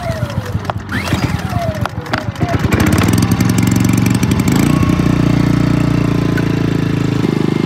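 A new portable generator's engine is pull-started with a few rapid cranking attempts, then catches and settles into a loud, steady running drone that continues close by.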